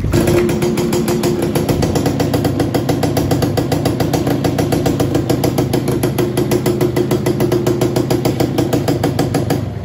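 A motorcycle engine idles close by with a steady, rapid, even chugging pulse that holds for the whole stretch, loud and alone with no talking.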